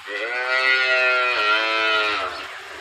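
A single cow gives one long, loud moo lasting over two seconds, close by, with faint background noise after it fades.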